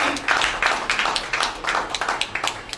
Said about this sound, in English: Please, can we clap for these assistant managers?